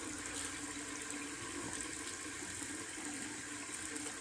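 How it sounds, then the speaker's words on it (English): Tap water runs faintly and steadily onto a shaving brush at a sink, a soft continuous hiss with no speech. "Just a little water on it."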